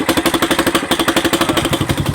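A used ATV four-wheeler engine idles with a rapid, steady rattly chug, its exhaust pipe pressed against the frame, loud and close with no talking.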